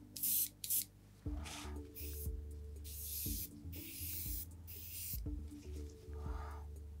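Gaahleri Mobius airbrush spraying thinned Tamiya XF8 paint with a 2 bar compressor, giving repeated short airy hisses in bursts, close by, over a steady low compressor hum.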